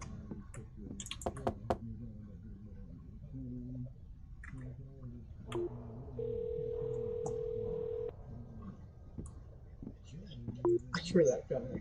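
A character's phone rings in a Halloween horror video game, a steady electronic tone holding for about two seconds mid-clip beneath a streamer's ongoing talk and light clicking.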